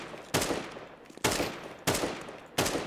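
Four short, sharp rifle bursts ring out at a steady pace in the video game Counter-Strike, each one a loud crack that quickly fades.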